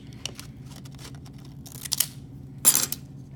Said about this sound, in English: Now what I'm going to do is cut the other end of the film. And I'm going to cut it straight.